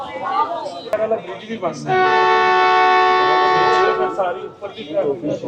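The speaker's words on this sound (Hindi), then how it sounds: "दूसरा डिपार्चर हॉर्न हो गया और ट्रेन ने मूव करना शुरू किया" A Jaffar Express train sounds its departure horn at Gujranwala station, one long sustained blast of about two seconds, loud and close, with people talking before and after it.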